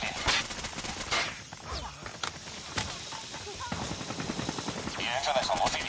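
Bursts of machine gun fire in Call of Duty Mobile, rapid rattling volleys mixed with other gunshots and battlefield noise, with voices talking over the shooting.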